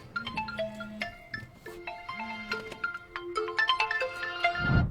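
An Oppo F29 Pro 5G phone rings from inside an ice-filled box, a bright melodic ringtone of rising and falling tones playing continuously, close and clear.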